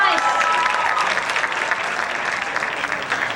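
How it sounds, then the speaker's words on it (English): Sustained audience applause for soloists at a high school jazz concert, a dense steady wash of many hands clapping at close range with no break across the stretch. "give another round of applause for all of our soloists"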